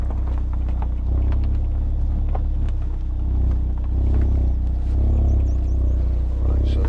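A 2017 Audi TTS 2.0 TFSI Black Edition S tronic quattro drives along, its engine and exhaust a steady low rumble that swells and eases gently, with wind buffeting and someone talking over it.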